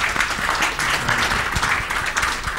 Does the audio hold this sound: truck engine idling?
no